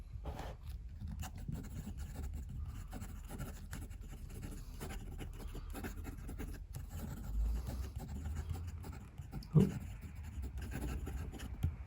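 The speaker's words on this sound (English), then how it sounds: "Quick writing." A fountain pen nib writing quickly on paper, a soft, steady scratching and rubbing at low level with brief taps and pauses, fairly close.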